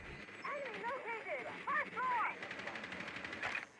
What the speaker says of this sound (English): And we already hear some gunfire.